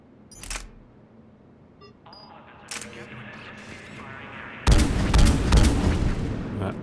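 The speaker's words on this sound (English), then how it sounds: "That's a grenade launcher." Grenade launcher fire in the Mass Effect 3 video game: faint clicks and beeps, then a sudden loud blast that swells into a dense, sustained roar of explosions near the end.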